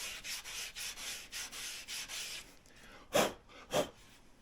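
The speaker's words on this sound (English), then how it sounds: "So I have to sand that until I hit those lines" Hand sanding a diamond willow walking stick with coarse 80-grit belt-sander paper, a quiet rhythmic rasping of repeated even strokes, then two louder, sharper scrapes near the end.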